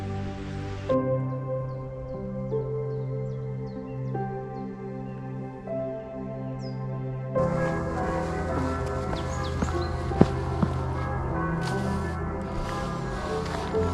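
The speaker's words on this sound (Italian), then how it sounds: "questo meraviglioso suono delle campane dei paesi di montagna" Church bells of a mountain village ring out at a distance, a slow series of clear, sustained tones that swell into fuller pealing halfway through, with faint high bird calls over a quiet outdoor background.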